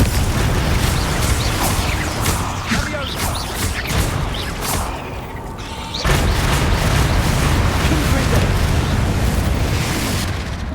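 Spell explosions and crashing debris from the Confringo blasting charm in Hogwarts Legacy, with loud booming blasts, a sudden cutoff near the middle, then another roaring burst of rumbling destruction.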